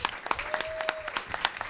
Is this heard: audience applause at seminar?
yes